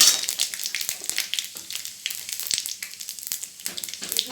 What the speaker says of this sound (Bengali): শুকনো লঙ্কা ফোড়ন দিলাম, পাঁচ ফোড়ন দিলাম